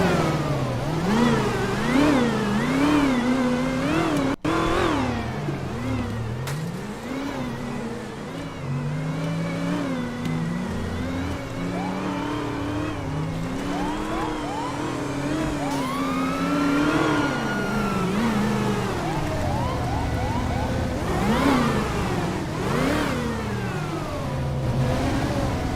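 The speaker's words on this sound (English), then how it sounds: "It's a loud engine." A loud car engine revs and roars in a role-play driving video game, rising and falling repeatedly over about twenty-five seconds with a siren-like wail mixed in and no talking.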